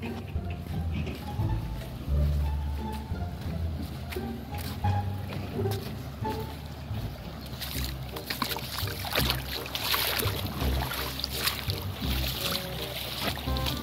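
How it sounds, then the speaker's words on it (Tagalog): Steady river water washes and splashes while a boat or small craft crosses a river near Anangilan City, a continuous broad rush running throughout with faint voices now and then. "tatawid na kami sa ilog."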